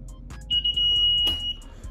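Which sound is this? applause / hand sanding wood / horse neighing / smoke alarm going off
smoke alarm going off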